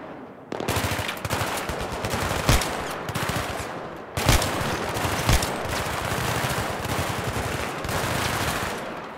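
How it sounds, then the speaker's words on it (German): Sustained automatic gunfire in a Battlefield 3 campaign battle, dense rattling bursts with a few sharper louder shots, continuous and loud throughout with no speech. "Ja, wie die da alle hier abballern."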